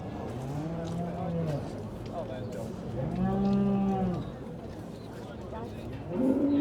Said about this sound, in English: And these 3 cattle now being pulled into order.